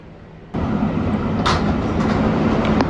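A Bronx-bound New York City subway 6 local train runs underground with a steady, loud rumble of wheels and motors that swells slightly midway, with no talk over it.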